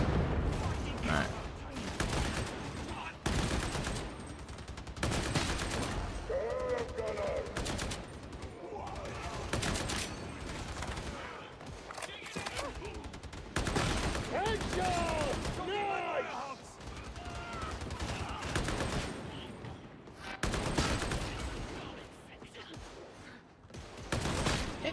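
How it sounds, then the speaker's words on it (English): Hip-fired gunfire in Warhammer 40k: Darktide, with dense bursts of rapid automatic shots and booming impacts that come in loud stretches and then pause, over game effects and voices talking. "Having a weapon you just have to hip fire makes it all the more fun to shoot"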